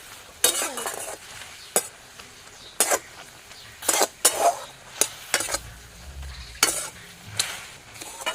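Marigold flower paste for homemade holi colour cooking down in a pan as its water dries off, with a soft steady sizzle broken by repeated sharp scraping stirs of a spoon against the metal, close and without speech.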